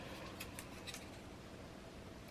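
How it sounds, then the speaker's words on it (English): Big scissors cutting material at a craft workstation, a few brief crisp snips standing out over a steady background hiss, no talk. "Big scissors. So I'm going to cut that."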